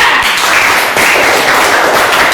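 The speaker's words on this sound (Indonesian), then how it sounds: "Tepuk tangan untuk kelompok 2." Steady, dense applause for a student group in a classroom, many hands clapping continuously and fairly loud throughout with no pause.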